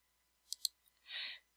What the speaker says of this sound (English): Click the Design tab.